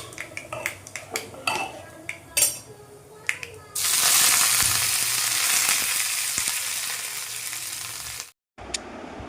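Mustard seeds frying for a curry tempering: scattered clinks of utensils and pans at first, then a sudden loud sizzle that holds steady for several seconds before cutting off abruptly.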